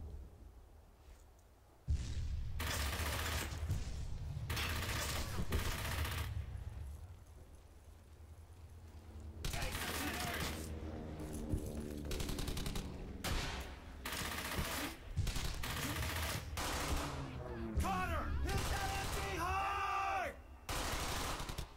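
Gunfire in Brothers In Arms Hell's Highway, a World War II shooter, crackles in dense bursts of shots and rattling fire that keep on through the whole stretch, mixed with game sounds and other effects.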